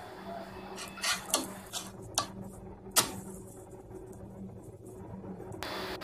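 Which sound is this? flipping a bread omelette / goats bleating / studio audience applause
flipping a bread omelette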